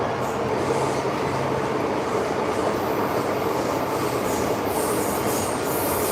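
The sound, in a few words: Hong Kong MTR subway train running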